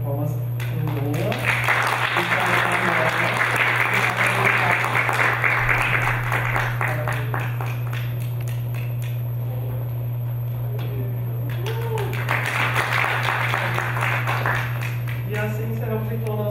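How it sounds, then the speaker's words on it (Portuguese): Audience applause at an electronic keyboard recital marking completion of an advanced course, sustained clapping in two broad bursts separated by a quieter stretch, with a steady low hum underneath. "quero uma salva de palmas para o Boa"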